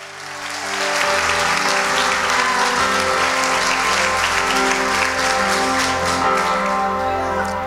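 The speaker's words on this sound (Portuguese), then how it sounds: "Aplauda o Senhor, mas aplauda com força mesmo" Church congregation clapping hard and loud, a thick continuous roar of many hands rising within the first second and holding steady over sustained background music.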